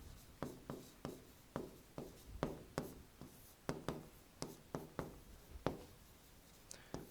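Chalk or marker writes on a board during a chemistry lesson, a quiet series of about twenty close, sharp tapping strokes in an uneven rhythm, with no voice over them.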